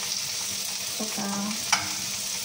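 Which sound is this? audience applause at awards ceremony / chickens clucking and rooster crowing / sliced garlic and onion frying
sliced garlic and onion frying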